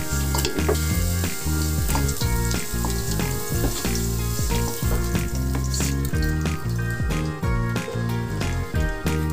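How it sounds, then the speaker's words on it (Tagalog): Garlic and onion sautéing in a pan for pork igado, a continuous close sizzle running under steady background music with faint bursts of stirring. "Mag-isa tayo ng bawang at sibuyas"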